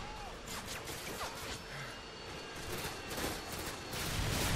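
Gunfire in Modern Warfare 2, a series of sharp shots and bursts crackling over a noisy battlefield background, fairly faint and spread through the moment, with a few louder impacts near the end.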